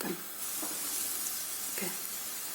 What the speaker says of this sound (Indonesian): Oke, minyaknya sudah panas. Kita sekarang bisa masukkan.